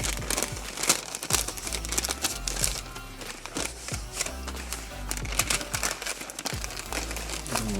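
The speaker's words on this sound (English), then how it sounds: "Place it into the parchment paper." Parchment paper crinkles and crackles loudly up close as cold-smoked cheese is wrapped in it, a busy run of sharp rustling bursts without pause.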